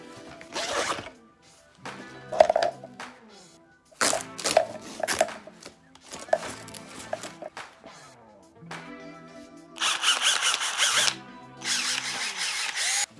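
A cordless Triton power drill whirs in several short bursts separated by pauses, then runs longer near the end; close and fairly loud, with no talking.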